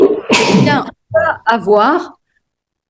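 A single sharp sneeze bursts out during a French-language conference session on school bullying, followed closely by someone speaking in French.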